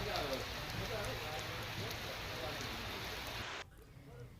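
Rain falls steadily in the Khambha town area, a dense even hiss on surfaces that cuts off abruptly near the end, leaving quieter background.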